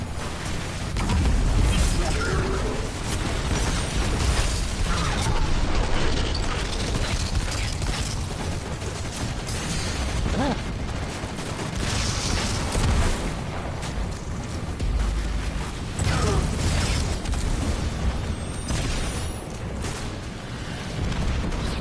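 Dense, chaotic video game combat with continuous loud bursts, booms and mechanical clatter filling the whole stretch, sounding like heavy gunfire and explosions layered together at close range.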